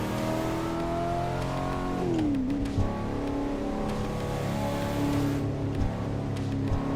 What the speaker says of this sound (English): It has a 4-cylinder that sounds like a V8